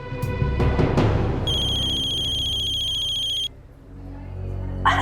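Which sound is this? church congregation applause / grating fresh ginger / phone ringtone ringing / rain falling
phone ringtone ringing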